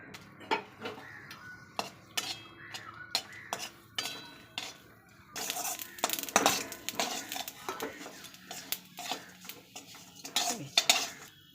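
Spices fry in oil in a kadai for a Bengali steamed fish dish, with a spoon scraping and clinking against the metal pan in irregular bursts, quiet and close, with no talk.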